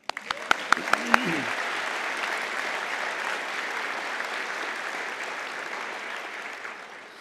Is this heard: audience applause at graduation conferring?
yes